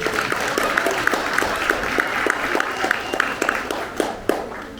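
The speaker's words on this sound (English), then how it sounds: "Let's give them a big round of applause." Outdoor crowd applause at a 1940s-themed event on the East Lancashire Railway, a loud, continuous rain of clapping with distinct individual claps popping out rhythmically through the wash.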